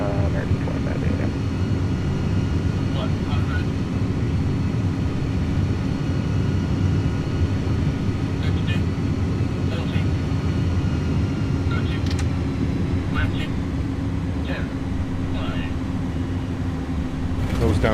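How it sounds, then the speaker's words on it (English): An iniBuilds A300 airliner with PW engines landing with thrust reversers deployed in a flight simulator, loud continuous engine roar and rumble under someone talking, with scattered clicks and cockpit sounds. "Nose down gently, reversers are out,"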